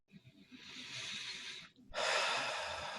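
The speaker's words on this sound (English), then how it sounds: "Take a deep healing breath." A deep breath taken close to the microphone during a calm healing exercise: one airy inhale, a brief pause, then a long, louder breathy exhale, otherwise quiet.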